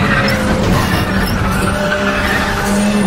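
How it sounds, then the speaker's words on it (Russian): A car drifts in Need For Speed: The Run, its engine droning loud and steady while tires skid and squeal continuously throughout, close and without pause. "И входим в дрифт."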